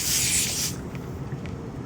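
A portable lithium tire inflator nozzle is screwed onto a tire valve. A short, sharp hiss of escaping air comes first, then faint rubbing and scraping close by.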